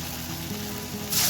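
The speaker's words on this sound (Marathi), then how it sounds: "तर तळताना कमी गॅसवरच तळा, म्हणजे चकली कच्ची राहणार नाही, छान खुसखुशीत तळली जाईल." Maize flour chakali frying in hot oil over low heat, a steady close sizzle that swells louder near the end.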